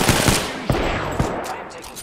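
Bursts of gunfire in the Apex Legends video game, several sharp close shots in quick succession over a loud, busy game mix.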